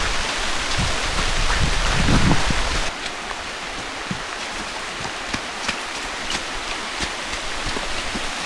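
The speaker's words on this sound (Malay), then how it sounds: "hujan semakin lebat guys" Steady heavy rain pours down on a hilltop hiking trail at Bukit Besar in Kulim, Kedah. A dense, broadband hiss fills the whole clip, loudest in the first three seconds, with scattered close drips and taps throughout.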